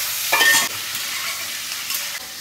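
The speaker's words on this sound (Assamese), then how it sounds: "মই পৰ্ক ড্ৰাই ফ্ৰাইটো বনাই আছোঁ" Pork dry fry cooking in its own rendered fat in a kadhai, a close sharp scrape-and-stir burst followed by a steady sizzle and a second brief stir, with no talk.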